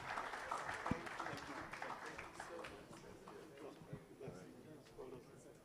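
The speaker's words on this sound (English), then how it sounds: "can we please give a round of applause for our panelists as they go back and take their seats?" An audience at a foundation event applauds panelists as they return to their seats, with soft, uneven clapping and scattered individual claps at low level while voices murmur underneath.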